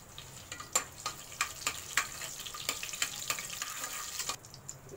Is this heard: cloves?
yes